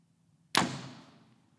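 A single arrow is loosed from a bow with an index release at point-blank range: one sharp, close snap and thud that fades quickly, with silence before it.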